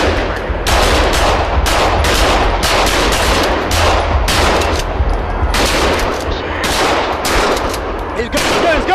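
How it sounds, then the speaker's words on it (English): Gunfire erupts during a police confrontation with an armed suspect hiding behind a small wall by a pool, a rapid series of loud, sharp shots in bursts over roughly nine seconds, close and dominating throughout. "15 yellow, shots fired, suspect down."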